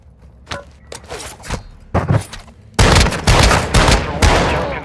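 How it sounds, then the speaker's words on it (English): Gunfire in Call of Duty Modern Warfare II, in the Building 21 map: scattered single shots and short bursts give way to a dense, loud fusillade of rapid automatic fire, close and punchy, with no talk over it. "You are taking effective fire."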